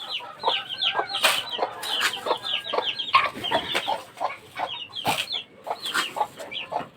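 Gamefowl fighting chickens kept for breeding, a flock clucking and chattering continuously close by, with overlapping sharp calls and brief squawks.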